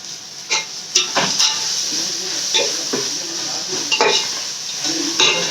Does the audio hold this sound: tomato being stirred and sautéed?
yes